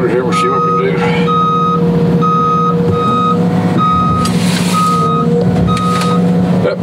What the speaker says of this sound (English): That beeper drive you nuts, you can shut it off.